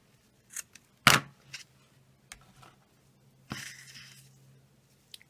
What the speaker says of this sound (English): And then I'll cut another piece.